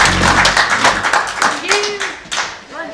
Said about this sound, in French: On les applaudit. Bravo.